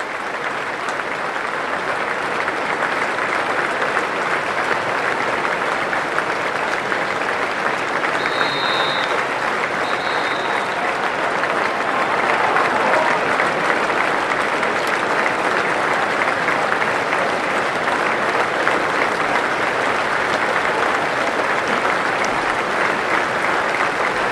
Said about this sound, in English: We'll pause and have a listen to the standing ovation.